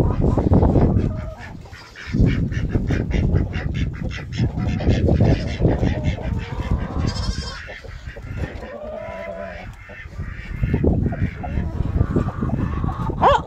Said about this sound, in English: Now let's go over here to the chicken coop and check on the bigger chickens.